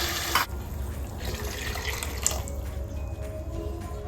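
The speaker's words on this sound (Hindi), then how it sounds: "इसी कटोरी से हम 2 कटोरी पानी डालेंगे।" Hot water is poured from a bowl into a pan of rice for Goan sweet rice, a close, steady liquid pour lasting a few seconds with light kitchen clatter and no talk.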